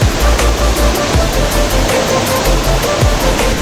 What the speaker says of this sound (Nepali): ठ्याक्कै यो चाहिँ खोला अगाडि छ। यो चाहिँ ठाडो खोला हो।